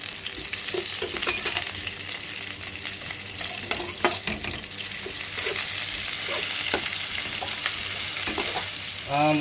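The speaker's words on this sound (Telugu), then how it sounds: "ఉల్లిపాయ అయితే బాగా మగ్గేసింది కదా" Onions fry in a pan for uggani bajji, a steady close sizzle with scattered scraping and stirring clicks of a utensil throughout, no voices.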